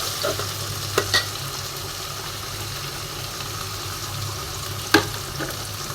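Ginger paste and whole cumin seeds frying in oil for chicken biryani, a steady soft sizzle with occasional clicks of a spoon stirring the pan, close and continuous.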